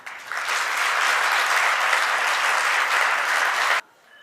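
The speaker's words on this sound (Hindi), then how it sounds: "इस बात में अच्छी तालियां एक साथ बजाई जा सकती हैं।" A crowd at a Jain religious discourse bursts into dense, sustained applause, many hands clapping together in a loud, even wash that holds steady before cutting off sharply.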